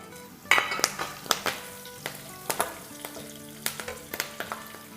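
Dried red chillies and curry leaves sauté in hot oil for a pakora kadhi, a steady close sizzle punctuated by repeated sharp clinks and scrapes of a spoon stirring against the pan.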